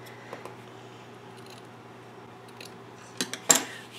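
Scissors trim a piece of lace for a shabby-chic mini album, with a few faint snips giving way to a cluster of sharper, closer cuts at the end over a quiet room hum.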